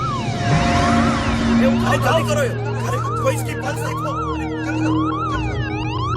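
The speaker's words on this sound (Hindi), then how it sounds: "एम्बुलेंस की आवाज से समझ आ रहा था कि वो धीरे धीरे करीब आ रही है" Several wailing ambulance sirens rising and falling together, loud and close, with people talking underneath amid traffic noise.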